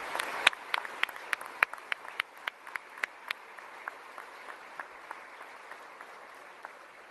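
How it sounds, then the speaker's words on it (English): An audience at a military change of command ceremony applauds the 13th Band and team, with sharp, distinct claps standing out over a steady, moderately distant patter that thins out toward the end. "give them a big round of applause for their great work."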